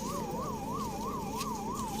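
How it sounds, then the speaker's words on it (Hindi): An ambulance siren wailing with a fast regular up-and-down sweep, steady and prominent over crowd and road noise at a rally. "देखो एम्बुलेंस है क्या?"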